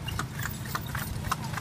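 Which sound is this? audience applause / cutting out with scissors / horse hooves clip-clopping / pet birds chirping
horse hooves clip-clopping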